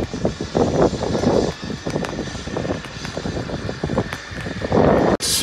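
A HAL Light Combat Helicopter flies a display at Aero India 2019, its engine and rotor roar rising and falling in pulsing surges, with wind buffeting the microphone.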